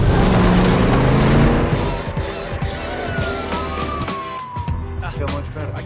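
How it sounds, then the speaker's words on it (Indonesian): A police siren wails loudly nearby, its tone sweeping up and down over background engine and street noise. "terdengar suara sirine polisi"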